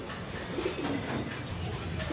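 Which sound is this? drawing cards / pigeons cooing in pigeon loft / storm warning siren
pigeons cooing in pigeon loft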